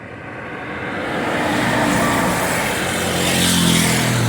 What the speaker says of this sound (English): Just letting the trucks pass.